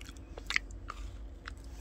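Someone bites into a soft, chewy blueberry macaron from Starbucks, giving a few faint, close crunchy bites and mouth sounds over quiet background hum.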